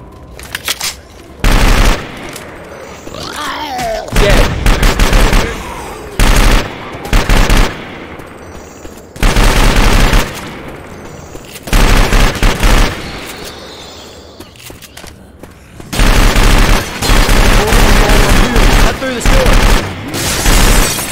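Machine gun fire in Left 4 Dead 2, loud repeated automatic bursts of several seconds each, separated by short pauses and quieter stretches of game ambience with occasional talk.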